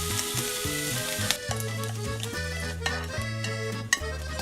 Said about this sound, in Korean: 베이컨을 볶아줘.